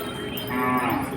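A calf at a cattle market in Bagerhat gives a single close, drawn-out moo lasting about a second, rising in the middle, against faint market background noise.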